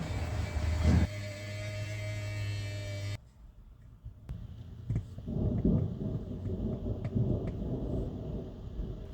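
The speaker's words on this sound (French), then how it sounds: "Malheureusement, on a une grosse orage qui s'en vient." Thunder rolls from an approaching thunderstorm over a small roadside garage in Colorado, a deep rumble beneath a steady low hum that fades into scattered crackles and rain-like noise.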